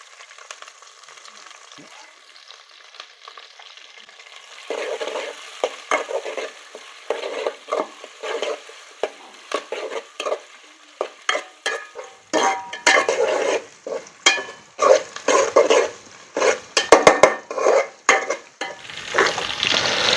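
Onions, green chillies and curry leaves sizzle in hot oil. After a few quiet seconds the frying turns busy, with frequent rhythmic stirring scrapes and clinks against the pan that grow louder and denser toward the end.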